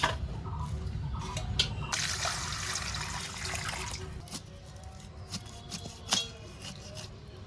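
Water runs and splashes while a pineapple is washed by hand, a soft, close, uneven rinse with rubbing and a few brief knocks, no talking.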